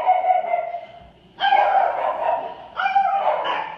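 Dogs bark in a quick run of loud, close barks and yips, with a brief pause before two more bursts follow.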